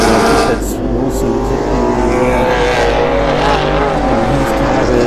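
Camaro race cars roar past at the Muscle Car Masters race, a loud continuous engine drone with shifting pitch under steady commentary.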